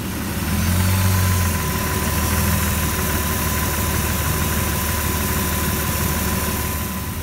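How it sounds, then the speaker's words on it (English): A car engine idles with its AC compressor cycling, a steady close rumble with a brief added hum as the compressor engages early on, then an even, continuous drone. "the AC compressor is starting to cycle, building up pressure"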